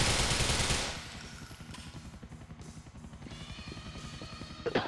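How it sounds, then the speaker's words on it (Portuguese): A helicopter flies overhead in the online mode of the video game GTA IV, a steady rhythmic rotor chop that runs through the whole clip at moderate level, with a louder burst of noise at the start. "Olha o helicóptero já sobrevoando."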